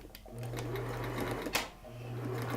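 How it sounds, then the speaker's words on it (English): Sewing machine running a steady straight stitch along the edge of turban fabric, a continuous close motor hum with a short clunk partway through, briefly pausing and then resuming. "I'm going to do a straight stitch right along the edge, and I use my presser foot as a guide."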